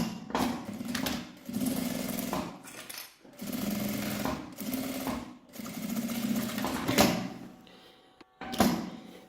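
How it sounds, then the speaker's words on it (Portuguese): A sewing machine runs a seam end to end on a fabric accordion wallet, close and steady in repeated bursts of rapid stitching separated by short pauses, with no voices. "eu passo uma costura de ponta a ponta."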